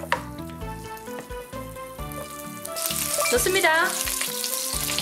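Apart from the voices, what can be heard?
butter sizzling with shrimp in pan over wood fire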